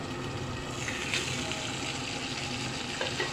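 Eggplant slices fry in a pan over medium heat, giving a steady, dense sizzle that holds evenly throughout with a few brighter crackles and no voices.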